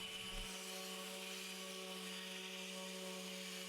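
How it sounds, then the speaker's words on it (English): Powered sanding of a wooden CNC-carved display with 220 grit sandpaper, a steady close motor hum and whine with a faint abrasive hiss, continuous and alone without voices. "I sand the entire display down with 120 grit, and then I move up to 220 as the final pass"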